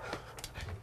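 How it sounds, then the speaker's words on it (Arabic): Dogs panting with a short whimper, close and moderately quiet, in a brief burst of rapid breathy pants over low rumbling background noise. "انت تعرف الكلاب دي؟ طب سكتهم عشان بخاف منهم"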